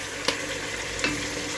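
Goat meat hits fried onions in a pot and gives off a loud, steady, broadband sizzle, broken by a couple of brief stirring knocks. No one speaks.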